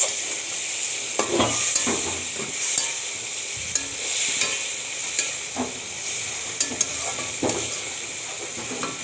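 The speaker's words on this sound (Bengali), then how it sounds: "মশলাটা কষিয়ে নেওয়ার পরে এবার দিয়ে দেব এর মধ্যে মাছ।" Fish frying in a pan of cooked-down spice masala over medium heat, a steady hiss with scraping stirs and clicks of a utensil against the pan throughout.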